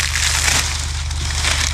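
Dense, continuous crackling and crunching of dry coconut leaves burning as stove fuel, close and fairly loud, over a low rumbling hum.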